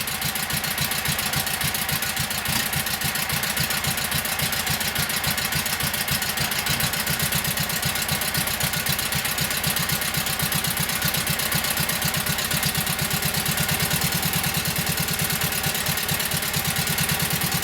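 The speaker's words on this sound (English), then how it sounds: "Both cylinders are running, but this one's got the odd miss in it." A Kohler KT17 twin-cylinder engine runs steadily and loudly up close with a rapid chugging pulse and an odd irregular miss.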